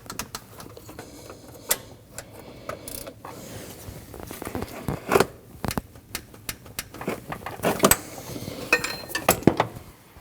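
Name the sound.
torquing bolts on Nissan NV2500 belt tensioner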